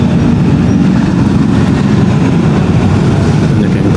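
A train rolls past a railway crossing with a loud, steady rumble and rattling wheel noise that fills the whole stretch, heard up close with no break.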